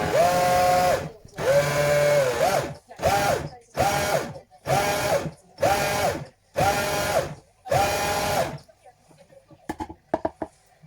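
A kitchen blender whirs loudly in a run of on-off pulses, one long burst followed by several shorter ones, while mango ice cream mixture is blended with milk, then stops, leaving faint handling clatter.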